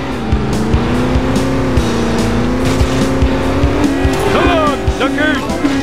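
A car in The Simpsons Hit & Run races along with a loud, steady engine drone while tires squeal and skid in repeated bursts toward the end, up close and continuous.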